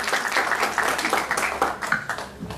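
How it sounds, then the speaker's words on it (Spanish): Applause from an audience at a magazine launch event, steady dense clapping of moderate loudness across the whole stretch with no talking over it. "Fuerte aplauso."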